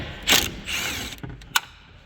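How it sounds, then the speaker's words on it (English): Ratchet clicks and metallic handling while 10mm nuts come off a third brake light on a 2014-2019 Chevy Tahoe, Suburban or GMC Yukon, in a few short close bursts with quiet gaps between. "Step now is to remove those 10mm nut here"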